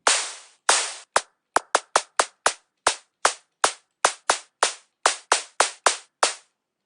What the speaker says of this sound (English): in psychedelic music, you sometimes have a bit of a longer noise drop-off at the end